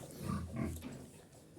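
A sow in a farm pen, waiting for water, gives low, rough grunts, two stronger ones early and then softer, continuing grunting. The sound is close and moderately quiet, with no talking.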